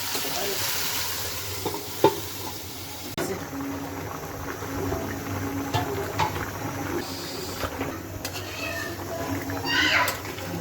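Chicken meat goes into a pot of fried spice mix and sizzles steadily while being stirred and scraped, with clanks of a utensil, someone speaking and a faint cat meowing in the background.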